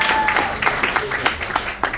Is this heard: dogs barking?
no